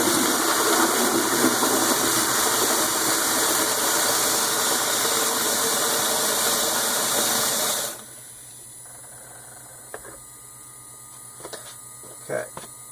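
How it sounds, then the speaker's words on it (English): Water rushes steadily through an HVAC water filter during a flush, a loud broadband hiss with a low hum for about eight seconds, then stops abruptly, leaving a quiet room with a few faint clicks and knocks. "Okay, so I'm going to flush this out."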